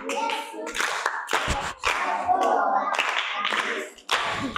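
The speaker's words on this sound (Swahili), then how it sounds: "makofi kwake" Children in a classroom clap together for a classmate who answered well, a dense run of hand claps with brief pauses, a few young voices mixed in.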